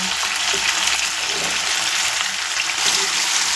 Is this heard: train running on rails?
no